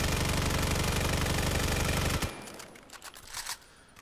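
An M4 rifle in the VR shooter Vail VR fires a long full-auto burst, loud and rapid, then cuts off sharply, leaving faint handling clicks and rattles afterward.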